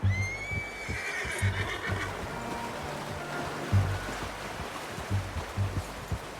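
A horse whinnies loudly at the start in the video game Red Dead Redemption 2, followed by a steady rushing, water-like ambience with faint low thumps and no speech.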